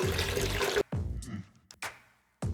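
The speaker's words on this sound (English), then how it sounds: "then I'm going to rinse the starch out of that" Tap water gushing over two cups of basmati rice to rinse out the starch, a loud close rush that cuts off abruptly, followed by quieter sloshing and trickling, then the flow starting again at the end.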